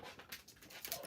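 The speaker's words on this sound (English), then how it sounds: "That was my dog." A dog pants and moves about nearby, with short breathy huffs and soft shuffling noises, no speech.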